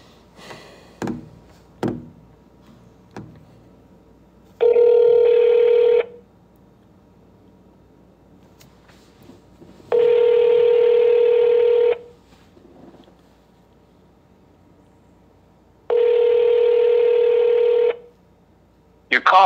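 Telephone tones sound for a prank call: three long, steady, loud tone bursts, evenly spaced over a quiet line, with a few faint knocks and taps before them.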